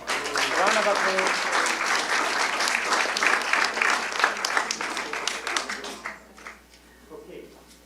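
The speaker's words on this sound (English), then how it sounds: "Round of applause." Audience applause at the FAEA award ceremony after a winner is announced, sustained dense clapping close to the room with a voice speaking over it, thinning out toward the end.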